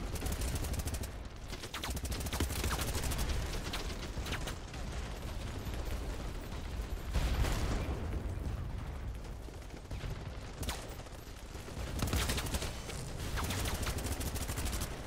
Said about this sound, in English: Can't see anything, but I see gunshots, but I don't know exactly where they're coming from